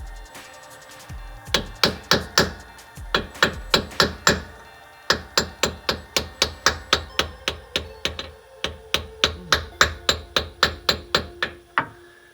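A brass punch is hammered around the rear pinion seal of a 2002 GMC Envoy axle: rapid, evenly spaced sharp metallic strikes in several long runs, close and loud, with no talking.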